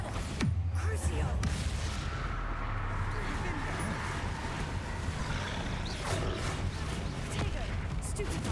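Spell blasts from Hogwarts Legacy combat, a dense run of booming explosive hits and crashing impacts that stays loud and rumbling throughout, with a voice talking over it.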